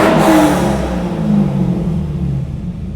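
A 2002 Chevrolet Corvette Z06 engine revs close by, rising briefly and then settling into a rumbling idle with a whir on top, and no voices are heard.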